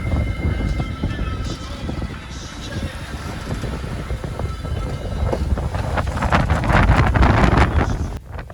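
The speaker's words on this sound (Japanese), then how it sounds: "夕方に近づくにつれて風も強くなっていきます。" Steady wind rushing over a sailboat crossing the Pacific under an easterly breeze, a continuous broadband roar with water wash that swells louder toward the end before cutting off abruptly.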